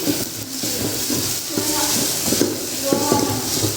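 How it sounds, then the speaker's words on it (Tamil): Onions and tomatoes frying with salt in a pan, a soft sizzle and scraping stir strokes close by under irregular kitchen clatter. "உப்பையும் போட்டு நல்லா இந்த மாதிரி நல்லா வறுத்துக்கலாம்."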